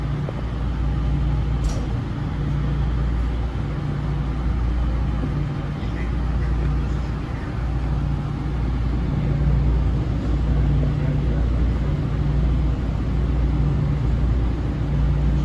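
A South Shore Line electric multiple-unit train running west through Michigan City toward Beverly Shores, with a steady loud rumble and low hum throughout and occasional faint squeals, heard from inside the car.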